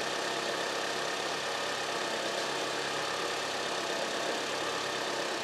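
Car engine idling steadily during a battery charging test, a dense, even broadband hum and rumble that holds constant throughout, close by, with no speech.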